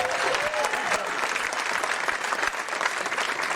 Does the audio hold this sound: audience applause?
yes